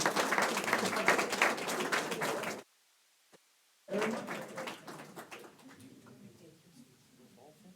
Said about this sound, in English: how about a round of applause for our three candidates in Precinct 1?